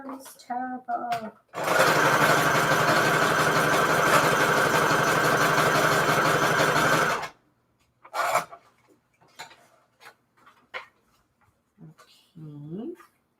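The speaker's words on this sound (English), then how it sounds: "Pardon my loud sewing machine." A loud sewing machine that needs cleaning runs in one harsh, rattling burst of about six seconds, followed by quieter scattered handling noises and a person talking.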